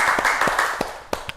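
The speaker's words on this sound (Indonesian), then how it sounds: "Tepuk tangan semuanya." Classroom applause from students, a brief patter of several claps with a few sharper individual claps at the end, fairly close and fading.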